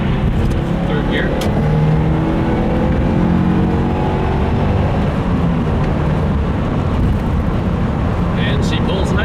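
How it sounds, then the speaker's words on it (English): A 2015 Subaru WRX running a MAP Stage 1 93-octane tune accelerates in third gear, with a loud, steady engine drone heard from inside the car and a faint voice at times. "I might bring her down to third gear and do a little pull"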